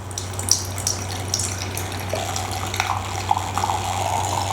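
Wine poured through a wine aerator, a steady rushing, gurgling bubble stream with a few brighter splashy accents, continuous and close throughout.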